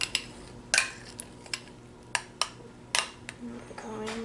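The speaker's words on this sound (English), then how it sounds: "So the cream cheese is softened. So we're just going to stir it up a little bit." Cream cheese, softened, being stirred in a bowl for a weekend breakfast: a series of sharp, close utensil clinks and scrapes against the bowl in an irregular rhythm, with quieter gaps between strokes.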